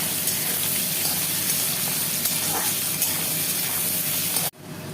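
Cabbage fries and is stirred in a pan for a chowmein breakfast dish, making a loud, steady, close sizzling hiss that cuts off abruptly just before the end.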